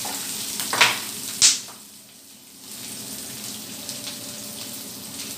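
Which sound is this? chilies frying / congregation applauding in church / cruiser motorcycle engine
chilies frying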